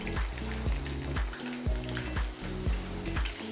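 Chicken kebabs frying in a pan, a steady crackling sizzle close up with faint tonal background notes and no voices.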